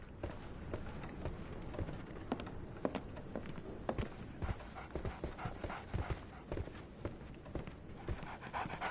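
A dog pants in quick, steady breaths close by, with soft footstep-like taps and shuffling mixed in throughout.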